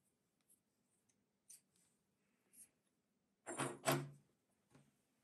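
Scissors snip through yarn during crochet work on a granny square: a quick close cut or two stands out among faint, sparse handling taps in an otherwise quiet room.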